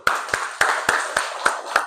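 Crisp unison clapping from a group of elementary school pupils in a classroom, heard close. About seven evenly spaced claps fall in a quick, steady rhythm.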